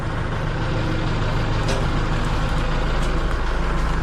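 Heavy truck engine running steadily at a loud, constant drone while lifting a tractor out of a swamp, with a rough low rumble throughout and no pauses.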